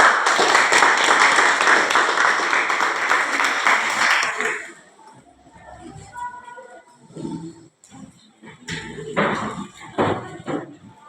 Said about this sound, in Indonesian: Ibu minta kasih aplaus untuk kelompok 4.